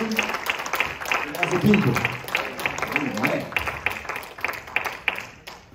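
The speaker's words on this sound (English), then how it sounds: "let's just give God another hand clap" A church congregation claps in scattered, uneven bursts during a worship service, moderately loud, with a preacher speaking over the clapping throughout.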